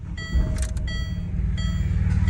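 A Ford XR6 being driven to a shed produces a steady engine hum with low rumbling and some higher cabin noise, fairly close and continuous, no talking.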